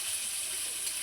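A little water splashes into a metal bowl coated with spices while cooking mutton curry, a brief steady hiss-like pour, close and fairly quiet, with no talking.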